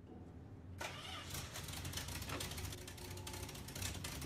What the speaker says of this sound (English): Sounds like an old school inline 6, maybe even like an old inline 4 almost.